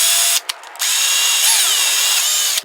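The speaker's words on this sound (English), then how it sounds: "I'm still going to start out the same way, working with the drill in reverse" A power drill runs in reverse, boring a 1/8-inch hole through boat gel coat for a Power-Pole install, a loud close whine with a brief stop and restart before it grinds steadily on.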